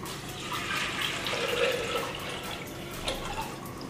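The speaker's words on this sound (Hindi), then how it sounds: "पानी डाल देते हैं।" Water being poured into a pot with cooked dal for sambar in a home kitchen, a steady splashing gush close by that runs for several seconds with small watery trickles toward the end.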